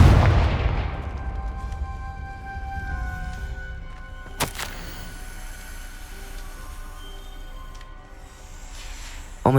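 Confringo fire-blast spell in the Hogwarts Legacy video game: a loud booming blast up front that rolls into a ringing, tonal game-music wash, with a sharp crack midway and another at the end.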